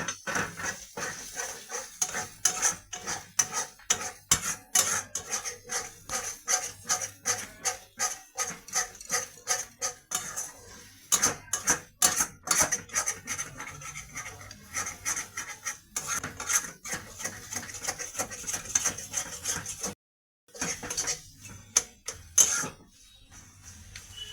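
Eggs stir-fried with spices in a pan, a rapid run of rhythmic spatula scrapes and rasping strokes against the pan, close and steady, with a brief pause near the end and no talking.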